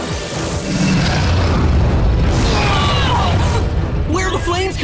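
A fire attack effect in the animated show Redakai, a loud continuous roaring blast of flames with crackling bursts, heavy and dense throughout, with voices calling out over it.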